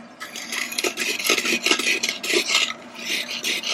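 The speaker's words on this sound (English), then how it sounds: "This is a pumice stone. I love how it has a handle, and it took away the scratches that I just was working on." Handled pumice stone scrubbing scratches out of a household surface during cleaning: close, gritty rubbing and rasping in uneven back-and-forth strokes that keep going steadily, with no talking.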